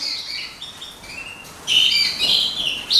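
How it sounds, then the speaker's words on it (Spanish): Small aviary birds chirp and twitter while bathing, with high, busy calls growing louder and denser partway through, close by. "Mirad, y aquí os dejo los pajaritos bañándose."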